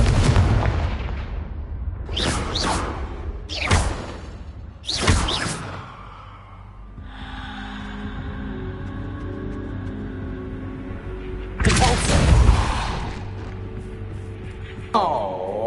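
Confringo fire spells blasting in Hogwarts Legacy, several sharp booming bursts in quick succession near the start and another pair later, with a lingering rumble between them.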